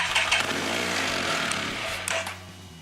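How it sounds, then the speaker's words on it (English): F3 series motorcycle engine just after starting, a steady close buzzing idle with slight revving swells throughout, no voices. "let's go ahead and we can start the bike so we can get this on"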